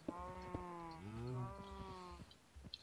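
Cows in a Minecraft-style video game call out in a couple of drawn-out, tonal moos, one long and wavering in the middle, with faint clicks around them and no talking.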